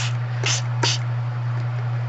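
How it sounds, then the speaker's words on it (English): Two short hissing spray bursts of coffee from a spray bottle in quick succession, close by, over a steady low electrical hum; no talking. "I'm using a spray bottle to quickly do this."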